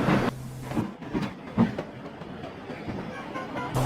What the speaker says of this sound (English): And almost before the coaches had stopped moving, Gordon came out of his siding and was coupled to the train.